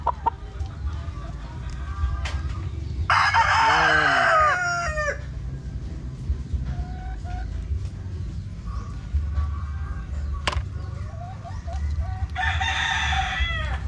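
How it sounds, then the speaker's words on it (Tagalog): Chickens cluck steadily nearby while roosters crow loudly twice, one long crow early and another near the end. "Yan yung mga manok natin."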